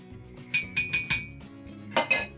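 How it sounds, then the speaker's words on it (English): A spoon stirs hot buttered rum made with Plantation 5 Year dark rum in a glass, giving about six bright clinks in two quick bursts, close and clear with no talking. "I like to kind of stir it up again just to incorporate everything nicely."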